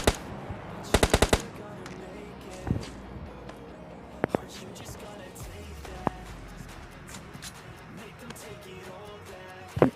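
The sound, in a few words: gunfire in the video game PUBG Lite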